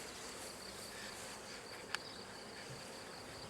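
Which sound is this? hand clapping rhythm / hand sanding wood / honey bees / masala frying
honey bees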